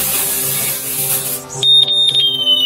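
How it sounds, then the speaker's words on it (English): A continuous spray hiss of simulated test smoke gives way to a shrill, high-pitched wireless smoke detector alarm beeping in loud, uneven pulses. "Smoke sensor sound and light alarm."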